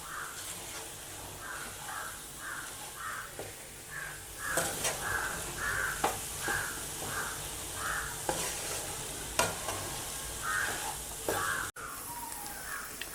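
Soya chunks (meal maker) are being stirred and fried in a pan with sauce, giving a soft, continuous sizzle. A spoon scrapes the pan in a steady rhythm of repeated strokes, fairly quiet and close.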